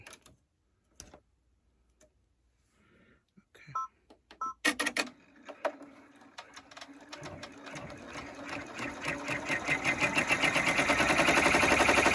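An embroidery machine stitches a bunny design onto a towel. A few scattered clicks and taps give way to a steady, rapid mechanical rattle that builds in loudness and speed and carries on to the end.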